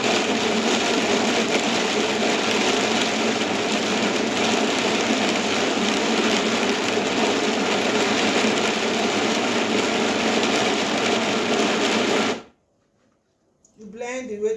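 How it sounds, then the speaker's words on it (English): A Silver Crest blender blending sliced tiger nuts, a loud steady whirring motor drone that runs unbroken for about twelve seconds, then stops abruptly, leaving near silence before a voice briefly speaks. "with my Silver Crest blender, I want to start my job"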